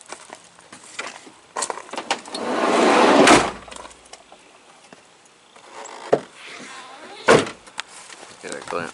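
Doors of a shop van slide and slam shut, a long rolling rumble building to a heavy thud, then another sharp slam a few seconds later, with handling noises and quiet movement between.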